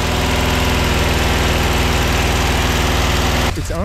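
A 1973 Chevy Suburban's 454 V8, revived after sitting for 23 years, runs at a steady loud idle with a rough, throbbing rhythm, likely missing on a cylinder or two, before cutting out abruptly near the end.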